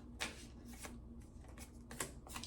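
Tarot cards shuffled in a few quick riffling bursts, close and fairly quiet, with short pauses between them and a faint steady hum beneath.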